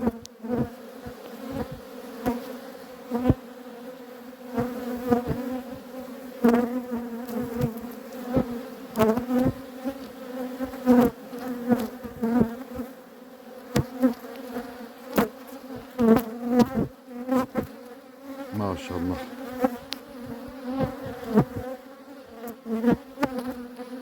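Honeybees at a hive hum in a steady, dense buzz that continues throughout, with individual bees swelling louder as they pass close by.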